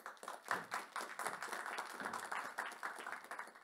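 Faint audience clapping welcomes a panel speaker at an event for teachers, a steady patter of hands heard at a distance.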